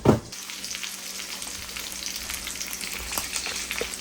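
Cauliflower and other vegetables sizzle and crackle steadily in a hot pan as they char, with a loud knock at the start and scraping stirs breaking through the frying, no talking.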